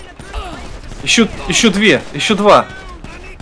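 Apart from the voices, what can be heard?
gunfire in the video game GTA 5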